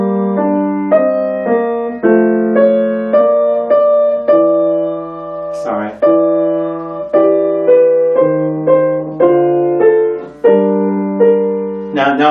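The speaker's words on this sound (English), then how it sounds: "Now let me just play this example slowly." Keyboard slowly playing the SDG example from Bach's Art of Fugue: clear, evenly spaced sustained notes and chords in a steady, deliberate rhythm, close and alone, with one brief noisy knock midway.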